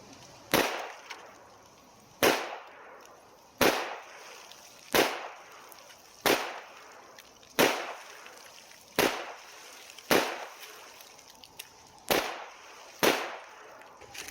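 Ten gunshots from a Rock Island TCM 9mm pistol fired at targets from 10 yards, sharp loud cracks spaced about 1.5 seconds apart, each with a short decaying echo; no speech.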